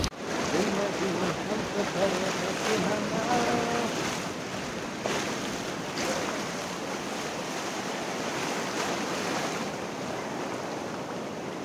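Steady roar of surf and wind with waves rolling in at Vagator Beach, Goa, loud and close, with a voice speaking briefly over it.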